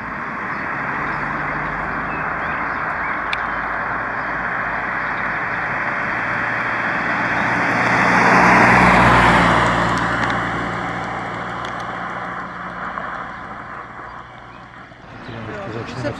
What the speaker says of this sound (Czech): Při míjení dvou proti sobě jedoucích aut je to zde hodně nebezpečné.